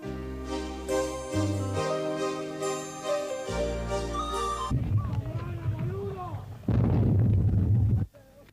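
Artillery fire in a Falklands War artillery duel between British and Argentine guns: a heavy, loud burst of gunfire arrives near the end, after a stretch of music and a voice talking.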